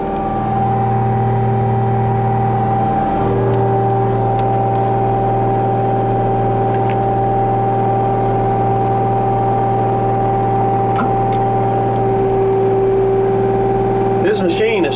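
A Cummins diesel engine on parked equipment runs loud and steady close by, holding a continuous idle drone that lifts slightly near the end as it is revved.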